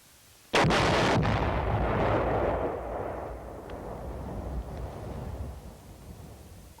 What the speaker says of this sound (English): Bangalore torpedoes, shaped charges, cratering charges, or similar special purpose charges may be used in total tunnel destruction.